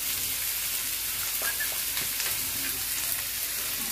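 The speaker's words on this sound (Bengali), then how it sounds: "এরপর আমরা এই তেলের ভিতরে লাউয়ের খোসাটা একটু দিয়ে দেবো, যাতে এটা সিদ্ধ হয়ে যায়।" Bottle gourd peel fries in hot oil over a low flame, giving a soft, steady sizzle and crackle with a few brighter pops, faint and close, with no voices.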